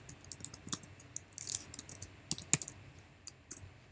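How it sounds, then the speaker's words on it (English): Typing on a computer keyboard, a quick irregular run of close, crisp key clicks with a few louder taps, heard alone in a quiet room. "I'm typing here"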